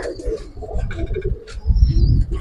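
Giribaz and coloured pigeons at a pigeon farm coo in low, soft, throaty phrases close by, with a few faint chirps and rustles around them.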